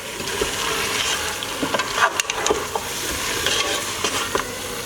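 Soaked urad dal (dal mash) roasting and being stirred in a pan over a medium flame gives a steady, close sizzle with scraping stirs and occasional clicks of the spoon throughout, with no voices.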